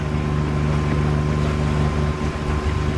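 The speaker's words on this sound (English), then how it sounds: "I've got the engine, you know, going nearly flat out at the moment to get in there before the rain." A sailing boat's engine runs nearly flat out, a steady loud drone with a strong low hum that holds evenly throughout and has no voices over it, heard while motoring toward an anchorage on open water.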